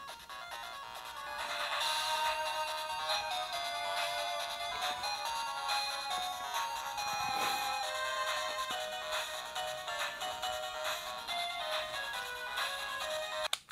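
A Game Boy Advance, an Astro City themed unit, playing video game audio through its built-in speaker: a continuous, bright, tonal chiptune melody with steady bleeping notes and no talking.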